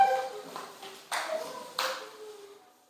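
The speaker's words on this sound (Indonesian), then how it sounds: "Sebelum kita presentasi, biar kita tetap semangat, kita tepuk semangat dulu" A class does a rhythmic 'tepuk semangat' spirit clap, three separate bursts of group hand-clapping in a room, each decaying quickly, with soft ringing tones in between and no talk.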